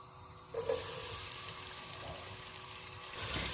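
Onions dropped into hot oil in a cooking pot, frying with a sudden burst of sizzling hiss that settles into a steady crackle and swells again near the end, with no talking.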